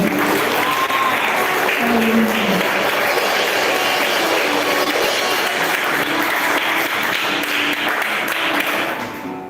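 A church congregation bursts into loud, sustained applause, a thick wash of many hands clapping close and full in a reverberant hall, with faint murmured voices beneath and the clapping tapering slightly at the very end.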